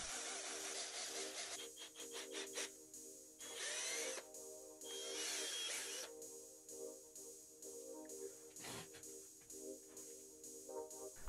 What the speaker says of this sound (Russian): А начать я хотел с обычной винной пробки, которую я решил просверлить.